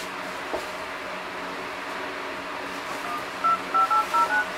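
Keypad dialing tones from a KingZone K1 Turbo octa-core MTK6592 smartphone: about five short, clean beeps in quick succession near the end, preceded by low steady background hiss.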